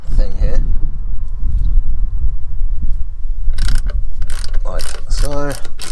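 Ratchet wrench loosening a 13mm locking nut on a Mazda Bongo's auxiliary belt setup, heard up close as a low mechanical grind followed by bursts of rapid clicking, with a voice speaking nearby.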